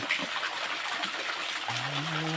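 Water flows steadily at a hillside Buddhist monastery, a continuous gushing wash under the scene, with a voice briefly rising over it near the end.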